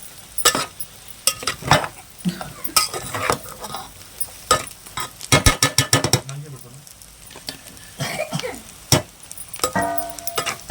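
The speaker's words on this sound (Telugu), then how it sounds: "మన గొడ్డుకారం ఏదైతే ఉందో అదైతే వేసుకుని తిప్పుకోవాలి" Cluster beans frying with coconut chili powder are stirred in a pan, with repeated scraping and clinking of a spoon against the vessel over a steady sizzle, close and fairly loud.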